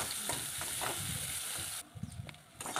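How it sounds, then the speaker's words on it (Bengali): Onions fry in oil with a dense, fairly quiet sizzle and a few stirring strokes; the hiss drops away briefly near the end before returning. "আর ওই তেলেই পেঁয়াজগুলো দিয়ে দিলাম ভেজে নেওয়ার জন্য"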